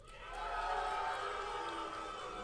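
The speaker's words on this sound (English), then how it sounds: "The boos are starting to drown" Live audience at a Schmoedown event in Orlando booing, a sustained mass of crowd voices swelling and holding steady.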